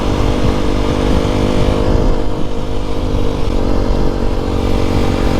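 Steady, close engine drone and wind from a ridden Aprilia SX125 125cc motorcycle, holding an even rumble throughout without clear revving.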